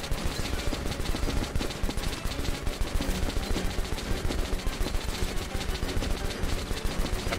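Rapid gunfire in Metro Last Light, a steady run of sharp, repeated shots close and loud, with almost no pause between bursts.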